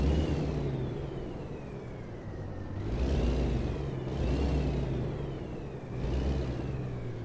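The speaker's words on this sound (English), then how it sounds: "Just giving it a little gas, not fuel, gas, but warm up." Simulated big-rig truck engine in American Truck Simulator revving repeatedly while warming up, a loud steady diesel rumble rising and falling in about three swells of throttle, with no talk over it.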